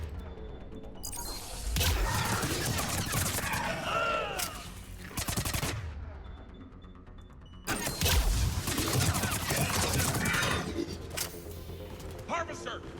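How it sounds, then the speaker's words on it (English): Bursts of gunfire in the video game Mass Effect 3, heavy rapid shots and blasts in two long clusters with short pauses between, while a player's voice talks over the action. "Harvester's firing on the Turian!"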